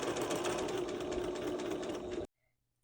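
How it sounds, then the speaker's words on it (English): A serger stitching a midriff panel onto the bottom seam of a shirt, a fast steady mechanical whir running close and loud, then cutting off abruptly to near silence. "Now I'm serging the midriff panel to the bottom of the shirt seam."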